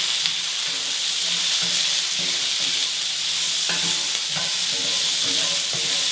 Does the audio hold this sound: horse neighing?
no